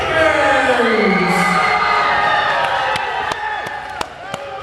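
Studio audience and hosts clapping and cheering after a wrestling team introduction on a podcast, a loud crowd roar with sharp claps standing out near the end, under music and voices.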